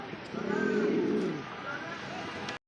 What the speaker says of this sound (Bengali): দেখতে পাচ্ছেন চমৎকার এক জোড়া জার্মান বিউটি কবুতর